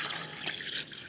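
Water pours steadily into a garden bucket for homemade fertiliser, a continuous close splashing rush with no pauses and no talk.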